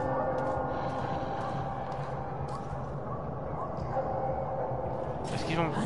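Dogs in the video game Metro 2033 bark, yip and whimper over a dense, steady rumble of game ambience, with a brief higher squeal near the end.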